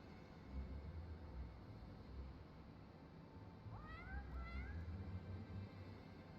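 A cat in the video game Final Fantasy XIV gives two short, faint rising meows over a steady, noisy rumbling background.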